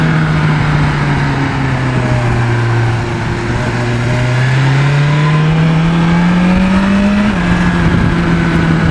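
A 2020 BMW S1000 XR motorcycle engine drones loud and steady, its pitch sweeping through a quick-shifter downshift around the middle and settling again near the end, with no talk over it.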